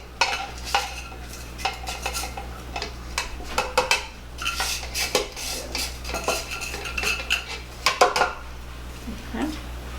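Sugar pours onto room-temperature butter in a mixing bowl for a German chocolate cake, giving soft granular rustles and scattered light clinks against the bowl, with no talk over the sound.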